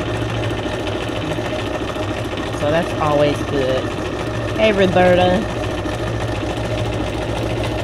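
A sewing machine runs with a continuous mechanical whir at craft-table distance while someone talks over it, her voice rising in short bursts.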